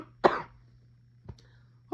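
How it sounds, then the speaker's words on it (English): A man with a cold gives one sharp cough at close range, followed by a softer throat sound and a short breathy exhale, with a low steady hum underneath. "I gotta cough again."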